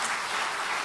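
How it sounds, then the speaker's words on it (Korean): A brief burst of warm applause from a congregation welcomes a newcomer during a Sunday church service, a dense wash of clapping caught for under a second. "우리 뜨거운 박수로 환영하십시다"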